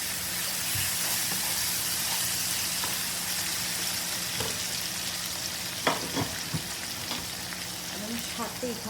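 Onions sizzle and fry with ginger-garlic paste in a pan, a steady close hiss with occasional stirring scrapes and clicks.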